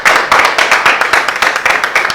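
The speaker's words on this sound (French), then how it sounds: "On peut applaudir pour la vision." Rhythmic, close hand clapping in a studio talk-show setting, a brisk burst of claps with a fairly even beat and no talk over it.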